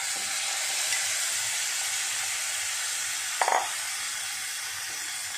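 Chicken pieces frying in butter over a medium flame give a steady, even sizzle and hiss that runs throughout, with a brief louder crackle partway through.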